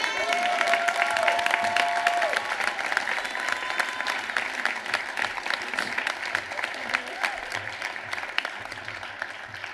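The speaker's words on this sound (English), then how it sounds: "Give her another round of applause" Keynote audience gives a sustained round of applause, dense continuous clapping heard from within the hall, with a voice faintly audible near the start.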